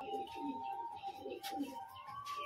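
A domestic pigeon at home coos softly and repeatedly at close range, the low rolling calls forming a gentle steady rhythm in a quiet room.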